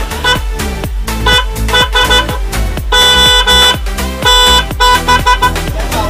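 A newly released bike horn plays phone-style melody tones, a loud, steady run of bright musical beeps repeating in quick rhythmic bursts with no talk over it.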